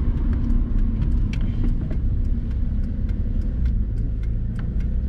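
A Mitsubishi FTO, a right-hand-drive car, is parked against a street curb, its engine idling with a close, steady low rumble and faint light ticks and clicks scattered throughout.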